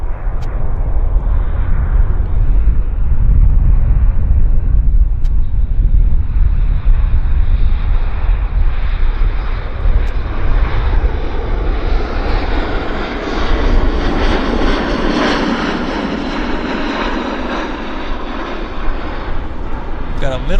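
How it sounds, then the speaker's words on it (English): WestJet passenger jet from Toronto arriving at Vancouver Airport, a loud, close engine roar with wind buffeting that rises into a sweeping whine as the aircraft passes, under occasional talk. "It's the Westjet 721 in from Cowtown."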